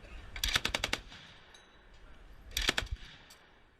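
Vehicle-mounted KPVT 14.5 mm heavy machine gun: two bursts of rapid, heavy, evenly spaced shots about two seconds apart, each around five rounds, with a reverberant outdoor echo between bursts.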